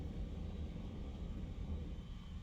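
A MiG-21 MF jet in a flight game takes off with a low, steady engine rumble, fairly faint and continuous with no other sounds.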